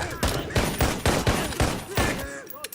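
A film-scene firefight between two opposing sides, with rapid heavy gunshots cracking out in a steady rhythmic burst, loud and close, ending in a brief echoing tail.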